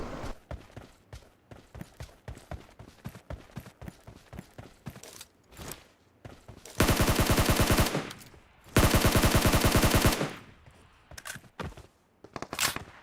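Rapid bursts of automatic gunfire crackle in two long sustained volleys, preceded and followed by scattered single shots and clicks, from the video game PUBG Mobile.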